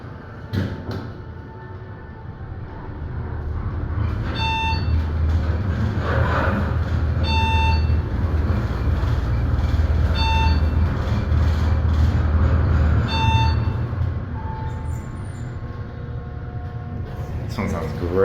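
A Montgomery traction elevator in the Macy's wing of Palisades Center, West Nyack, NY, running upward: a low steady motor hum and rumble with recurring chime-like dings and a few clicks, building then easing as the ride ends.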